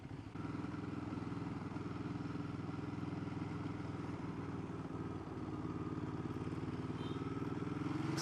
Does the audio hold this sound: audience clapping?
no